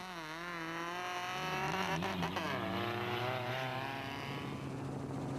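Off-road race trucks, a Toyota Hilux passing a Ford with a turbo problem, roar past with a loud engine whine that rises and falls as they go by.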